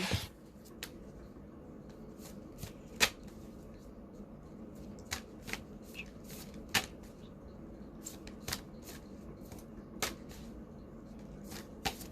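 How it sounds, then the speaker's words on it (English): An oracle card deck being shuffled by hand, with soft intermittent riffling and sharp crisp card slaps at irregular intervals, close and fairly quiet against a hushed room. "I'm going to go ahead and shuffle this deck."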